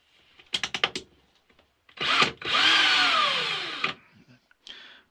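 A power drill fitted with an orange-collared Pozidriv 2 magnetic driver bit whirs in short bursts: a few quick stuttering pulses, then a longer sustained spin that rises and falls in pitch, close and fairly loud.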